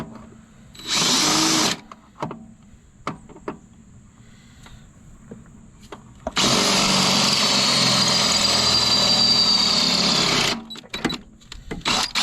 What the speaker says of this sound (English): We got to drill these 2 holes clear through right now, which is a little tough to do.